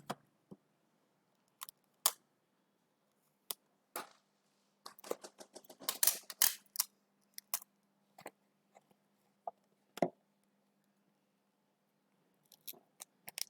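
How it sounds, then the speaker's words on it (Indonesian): Clear adhesive tape being pulled and pressed onto a plastic book cover, heard as a string of sharp, close clicks and crackles, scattered at first, then bunched into a busy burst mid-way, over a faint steady hum. "Terus kita berikan selotip"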